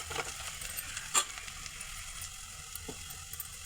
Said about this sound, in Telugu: పసుపు వేసుకొని బాగా కలుపుకోవాలి